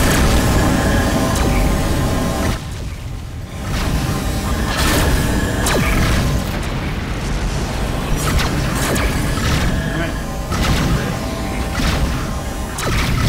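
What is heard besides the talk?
pulse cannons firing in Rebel Galaxy video game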